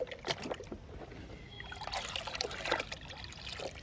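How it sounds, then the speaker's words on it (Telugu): Cow dung being stirred into water in a bucket to make a liquid plant feed, giving a steady wet sloshing and trickling with irregular splashes throughout, close and moderately loud. "ఇంకా కలుపుదామండి ఒక్కొక్క బకెట్లో. బాగా కలవాలి పేడను వాటరు."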